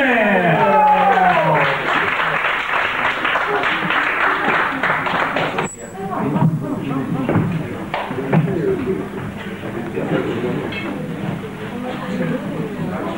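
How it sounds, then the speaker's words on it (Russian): Hall audience bursting into applause to greet a competing team at the 1995 Polar Dawns event, dense clapping with cheering voices filling the room, loud at first and then thinning into murmuring crowd noise. "сейчас зал взрывается аплодисментами и приветствует команду"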